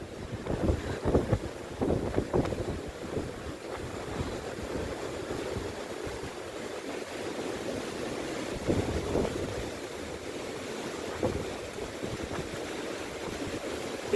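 Strong winter storm wind on the coast at Antalya, Turkey, roars continuously into the microphone with gusty buffeting and the wash of surf underneath.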